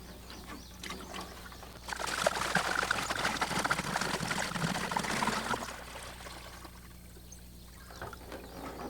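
Water pours into a plastic jug to mix antler grow attractant for hunting season prep, a steady gushing stream for about four seconds that trickles off at the end, with no voices.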